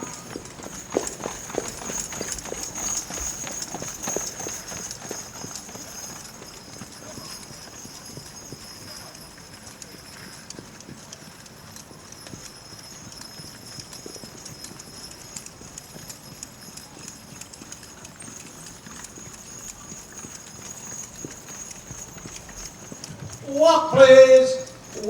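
Draft horses pulling tandem carts at a 4-H fair show ring trot along, hooves clip-clopping steadily and lightly at moderate distance, with an announcer briefly calling out near the end.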